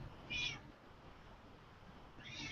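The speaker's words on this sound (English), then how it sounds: "Sorry for the meowing." Two short meows, one early and one near the end, over a quiet room background with no talking.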